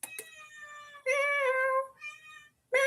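A domestic cat meows indoors, close and loud: a short chirp, then a long drawn-out meow and a shorter one, with a fresh meow starting at the end.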